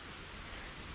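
Steady rain pours down outdoors in a continuous broadband hiss, close and even throughout with no voices.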